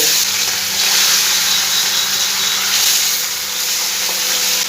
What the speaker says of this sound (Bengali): এবার মাছগুলো আমি সব ভেজে নেব।